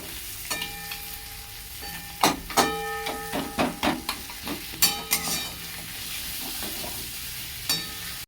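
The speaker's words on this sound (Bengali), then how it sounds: "মাছের মাথা থেকেও কত তেল ছেড়েছে পেঁয়াজটা ভাজা ভাজা হচ্ছে" Catla fish heads and onion fry in oil, a hissing sizzle under a run of loud metallic scrapes and clinks as a utensil stirs and breaks up the pieces in the pan.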